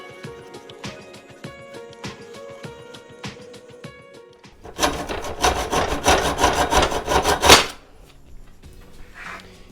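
An ERKO professional hand saw cuts through steel tube 2.67 mm thick: light rhythmic strokes build into a loud, dense, rasping burst of steady sawing lasting about three seconds, then stop abruptly.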